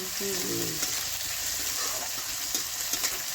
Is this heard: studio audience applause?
no